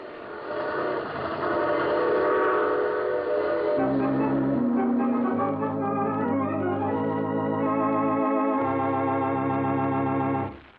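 A train rumbles along, then its horn blasts in long sustained chords, loud and steady, ending abruptly.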